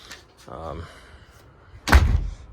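A newly installed shed door swings shut with a single solid, nearby thud, after a short stretch of someone talking.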